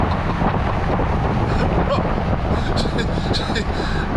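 A RAM 1500 TRX pickup truck launches hard under launch control, a loud, dense engine and road roar heard from inside the cabin with heavy wind rush, sustained throughout the short burst of acceleration.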